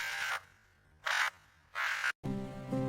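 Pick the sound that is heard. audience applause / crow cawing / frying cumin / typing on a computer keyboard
crow cawing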